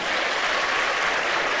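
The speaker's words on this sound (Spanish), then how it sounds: "Pues te podéis aplaudir también" Dense, steady applause from a debate audience in a hall in Leganés, Madrid, a continuous wash of clapping hands filling the whole short stretch without pause.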